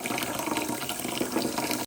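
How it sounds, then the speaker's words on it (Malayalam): Water is poured steadily into a rice cooker to top it up before draining the rice, a continuous close splashing trickle lasting about two seconds and then stopping abruptly. "റൈസ് കുക്കർ കുറച്ച് വെള്ളം കുറഞ്ഞു, ഇനി കുറച്ച് വെള്ളം ആക്കിയിട്ട് നമുക്ക് വാർത്തെടുക്കാം"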